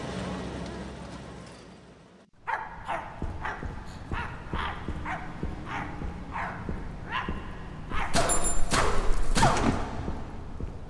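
Dog barks in the video game My Friendly Neighborhood, a string of sharp, regular yips and woofs after a brief silence, growing louder and denser toward the end over a murky background.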